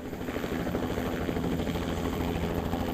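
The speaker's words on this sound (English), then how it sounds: "helicopter crews across the country lift off to survey morning rush hour traffic" A helicopter lifting off for a morning rush-hour traffic survey, its rotor producing a steady rapid low thumping with engine drone, moderately loud and continuous without speech.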